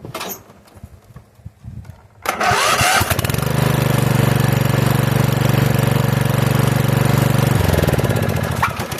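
A riding lawn mower engine with a bypassed seat safety switch cranks after a couple of seconds of quiet shuffling, catches, and settles into a loud, steady chugging run that eases slightly near the end.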